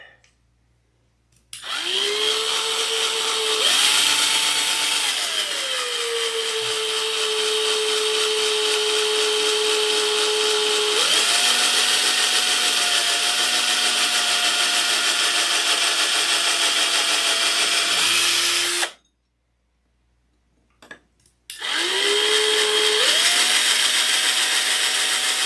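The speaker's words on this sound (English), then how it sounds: "Drill press by Armstrong." An Armstrong drill press runs in a workshop, its motor whining up to speed and holding a steady tone, then stopping and starting again after a brief silence.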